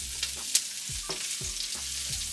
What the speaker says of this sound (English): put in your oil, put in your onions.